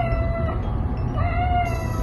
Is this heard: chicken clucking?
no